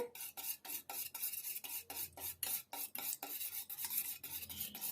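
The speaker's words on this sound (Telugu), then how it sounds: "ఇదంతా కూడా కలిసేటట్టు కొంచెం ఇట్లా నురుగు వచ్చేదాకా కలుపుకోవాలి" Egg yolk and white being whisked together in a bowl until frothy, a brisk rhythmic series of scraping strokes, close and clear with no voices.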